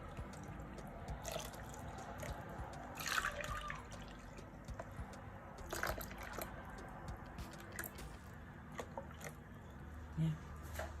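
Warm water is poured for Togolese gateaux dough, heard as soft trickling and scattered drips, quiet and close, over a faint room background.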